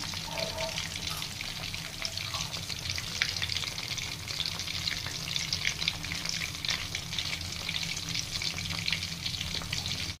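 Boneless chicken pieces for pakora sizzle and crackle steadily in hot oil, a loud, continuous frying hiss from start to finish with occasional stirring clinks.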